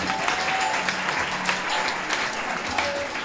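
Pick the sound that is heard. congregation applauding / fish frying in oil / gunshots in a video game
congregation applauding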